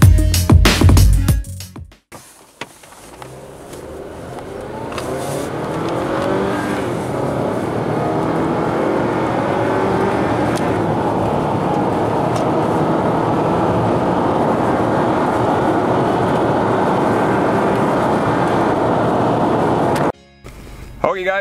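A Mazda CX-7 2.3 turbo pulls hard through a 0-60 run, the engine note climbing and sustained loudly for about eighteen seconds before it cuts off abruptly, with brief noises at the start and end.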